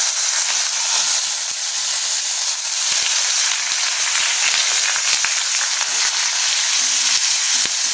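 Green chilli, chopped ginger and tomato sizzle loudly in hot oil in a pan for a mung dal, a constant close frying hiss with small crackles and occasional stirring clicks.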